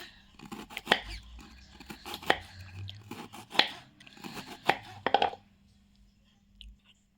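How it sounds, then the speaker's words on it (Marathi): A knife chopping bitter gourd into small pieces on a board, about six distinct crunchy cuts spaced roughly evenly, close and fairly loud, then trailing off into quiet. "आता मी याचे छोटे छोटे पीस करून घेणार आहे"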